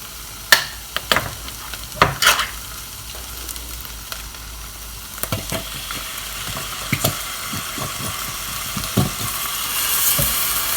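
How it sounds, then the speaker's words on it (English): Chopped tomatoes being stirred into minestrone soup in a pot, with a soft sizzle running under irregular knocks and scrapes of the spoon against the pot. "So now we're going to give it a stir with the chopped tomatoes in it."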